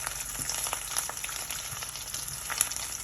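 Plant-based sausage crisping in a hot pan, a constant close sizzle with faint crackles and small pops scattered across it, holding at an even level.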